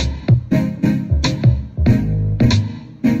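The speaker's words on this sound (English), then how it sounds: "I wanted a little more high end, so I added this glitter sound that goes." A bright, high glitter synth in a music track plays the same notes and pattern as the main synth but with a thinner, nasal tone. It comes in short rhythmic plucked bursts, close and alone.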